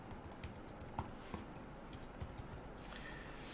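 Quiet, steady typing on a computer keyboard, with soft irregular key clicks and a few slightly louder taps, heard alone without talk.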